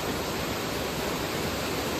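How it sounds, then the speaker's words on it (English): Water rushes steadily out of a turbine bay outlet at a hydro dam, a dense, even roar of churning flow that holds constant and loud with no pauses or voices. "And the water's just coming out of the Bay 2 turbine hole."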